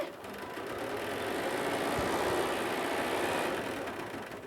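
A Bernina 770 embroidery machine stitching an applique circle, a fast steady mechanical whir and rattle that holds even from start to finish, moderately loud and with no voices.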